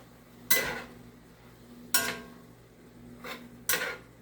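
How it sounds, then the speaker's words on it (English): Meat is stirred over a rice mixture in a greasy pan, giving four separate scraping clatters of utensil against the pan spaced about a second and a half apart, fairly faint over a low steady hum. "I wonder if I can just stir all this together now and see how it looks"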